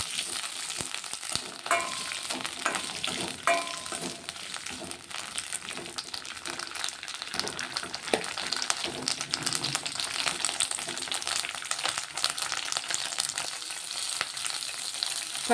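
Green chilies frying in oil in a pan, a steady close crackling sizzle with scattered pops and the scrape of stirring throughout, no talking.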